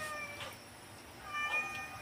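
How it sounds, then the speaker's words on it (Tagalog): Cats meow twice, short faint cries near the start and again a little more than a second later, over quiet background room noise. "Ang mga pusa ay umiiyak."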